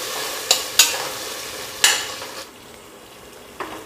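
Tomato with ginger garlic paste sautéing for mutton biryani, with a soft continuous sizzle under a few sharp spoon scrapes and taps against the pan.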